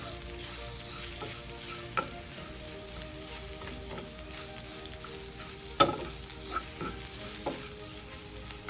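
Raw mango rice with turmeric and salt sizzles steadily in a hot pan while a spoon scrapes and clinks at irregular intervals, with one sharper knock partway through.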